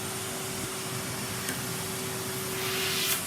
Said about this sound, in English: since we've got all that to vacuum